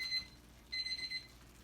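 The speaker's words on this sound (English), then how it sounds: "oh, it's my buzzer for another thing." A kitchen timer buzzer goes off close by, with two short, shrill electronic beeping bursts separated by a brief gap and no talk.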